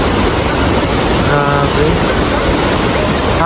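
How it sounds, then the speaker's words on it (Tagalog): Strong, fast-flowing river water at Lake Sebu in South Cotabato, Mindanao, a loud continuous rushing roar filling the whole clip, with a person's brief exclamation over it. "sobrang lakas ng tubig"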